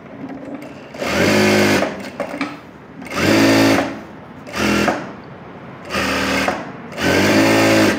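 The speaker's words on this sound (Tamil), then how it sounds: "இப்போ சுற்றி நம்ம தையல் போட்டுக்கலாம்." An electric sewing machine stitches an umbrella frock in five distinct bursts of rapid, whirring needle strokes, each lasting about a second, separated by short quiet gaps with faint handling noise, close and loud.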